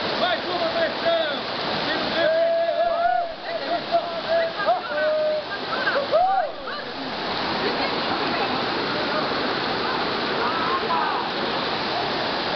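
Cachoeira do Engano waterfall, a steady loud rushing roar of falling water throughout, with people talking over it in the first half.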